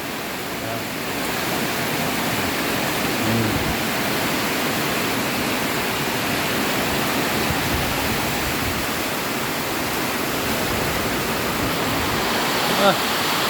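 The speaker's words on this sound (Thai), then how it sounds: "โอ้ลม ลมมากเลย" Steady, loud roaring wind from a heavy rainstorm buffets the microphone throughout, a continuous broadband rush with no pauses and no clear voices.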